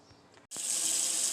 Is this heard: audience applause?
no